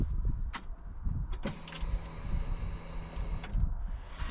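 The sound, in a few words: fuel pump priming on Coleman Outfitter UT400 UTV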